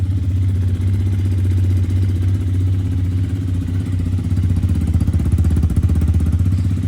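A Chinese Avantis Enduro motorcycle engine idles steadily with a low, even, rumbling putter, close and loud, running continuously without revving.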